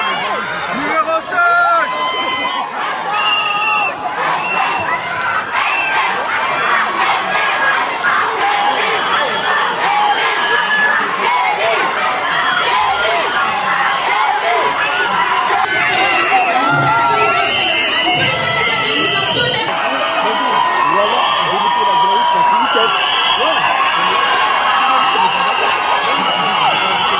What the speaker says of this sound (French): Un tonnerre d'applaudissements, mesdames et messieurs.